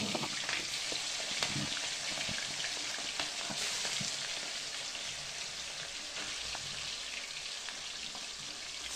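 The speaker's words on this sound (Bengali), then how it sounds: "এবার ওই তেলের মধ্যে হলুদ নুন মাখানো চিকেনটাও দিয়ে দেবো।" Chicken coated in turmeric and salt frying in hot oil, a steady dense crackling sizzle with scattered sharper pops, moderately loud and continuous throughout, no voices.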